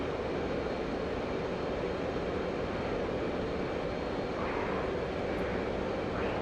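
Fighter jet engine at full throttle in DCS World, a loud, unbroken roar with steady broadband rush and no change in pitch, heard alone without talk.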